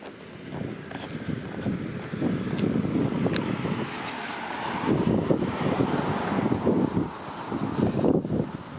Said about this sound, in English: It's a nice breezy day.